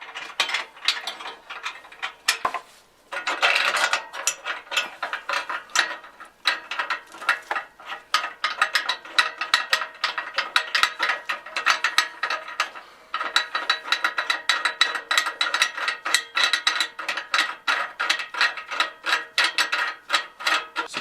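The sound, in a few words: wrench tightening exhaust bolts on Mustang Coyote swap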